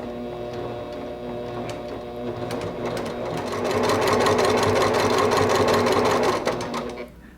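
A sewing machine stitching a snowball quilt block, its rapid needle chatter loud and close, speeding up into a dense steady run before stopping abruptly.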